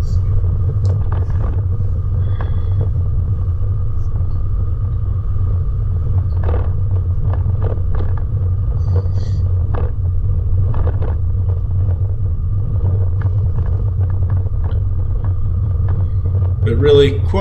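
A vehicle drives along a reasonably tight forest track lined with dead wood in the high country around Mt Murray and the Buckland Valley, giving a steady, loud low engine rumble throughout with faint rattles and knocks.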